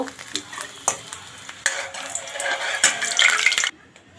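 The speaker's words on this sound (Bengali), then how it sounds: "এখন কয়েকটা শুকনো লঙ্কা ভেজে নেব" Dried red chillies fry in hot white oil in a kadai, crackling and spitting in bursts with scraping stirs that grow busier before stopping abruptly near the end.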